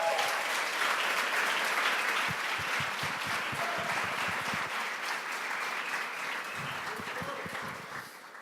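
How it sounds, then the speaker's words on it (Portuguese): An audience in a church youth event gives sustained applause for the supervisors, a dense wash of clapping that slowly fades over several seconds. "Eu queria que vocês dessem uma salva de palmas para os supervisores aí"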